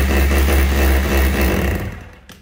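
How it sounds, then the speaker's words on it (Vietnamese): A 220V electric concrete chisel hammer runs close and loud with a dense, steady mechanical clatter and hum, then cuts off and winds down near the end. "Đây là lớp đục bê tông này"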